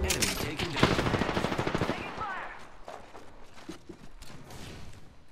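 Rapid automatic gunfire in a combat video game, loud bursts of repeated shots for about two seconds that thin out into scattered fainter shots.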